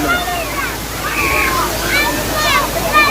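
Water runs through small streams with a steady, close rushing hiss. Voices talk over it throughout.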